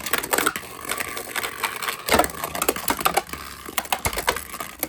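Beyblade X spinning tops clatter and clash in an ice stadium, rapid irregular sharp clicks and knocks close by with louder impacts scattered throughout.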